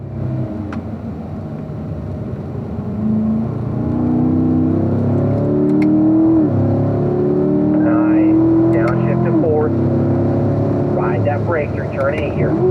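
Race car at speed on a track straightaway, its engine a loud, steady drone that climbs in pitch through the run, with an instructor's voice talking over it.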